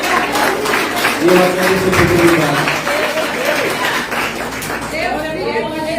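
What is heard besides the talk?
congregation applauding the Lord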